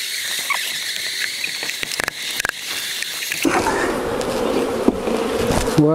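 Honeybees swarm loudly and continuously while being shaken from a nucleus box into a clean new hive, a dense close buzzing with occasional knocks and thumps from the wooden boxes.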